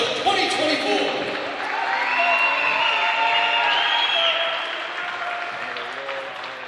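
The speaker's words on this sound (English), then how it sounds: "have one more big round of applause for our Rose-Hulman women's basketball class of 2024." A crowd at a Rose-Hulman vs Defiance Division III women's college basketball senior day applauds and cheers in a gym, a sustained roar of clapping with a few whoops, while an announcer's amplified voice carries over it.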